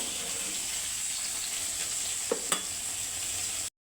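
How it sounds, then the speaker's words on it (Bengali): Lentil dal with a spoonful of raw mustard oil simmering in a pot, a steady close hiss with two brief knocks near the end before the sound cuts off. "এখানে আমি উপর থেকে এক চামচের মতো কাঁচা সর্ষের তেল দিয়ে আমি আর একটু ফুটিয়ে নেব"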